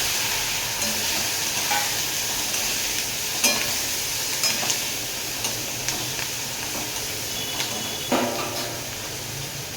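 Green chillies sputter and crackle in hot oil in a pan, a steady fine hiss dotted with sharp irregular pops and ticks, close and moderately loud, with no voices.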